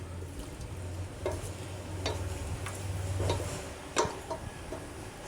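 Curry with mustard paste and a bay leaf is stirred in a pan for lau chingri, a low simmering sizzle under scattered light clicks and scrapes of the spoon.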